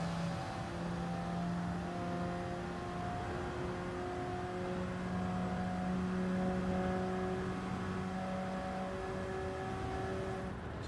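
Race car engines in a racing video game hum steadily with sustained tonal whines, rising and shifting pitch as cars accelerate, moderately quiet and without talk.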